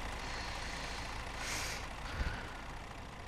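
Scania truck running, a constant broad engine rumble and hiss with a brief burst of air release midway, steady and moderately loud.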